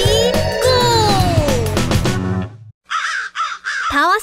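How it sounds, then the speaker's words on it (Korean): Several crows caw in bursts with short gaps, loud and close, following a stretch of dense music in an animated children's fairy tale. "저 까마귀들 좀 봐. 꼭 기다란 징금다리 같은데?"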